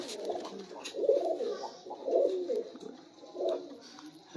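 Sialkoti pigeons coo nearby in soft, low, repeated phrases, fairly quiet and unhurried, with a light background hiss.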